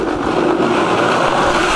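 A blender whirs loudly and steadily while blending non-dairy cheese sauce ingredients with potato starch, a continuous motor roar that stays at one level throughout with no talking over it.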